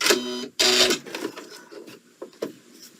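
Sewing machine stitching backward to the center of a coiled rope, two short loud bursts of motor whir followed by fainter rustling and handling sounds.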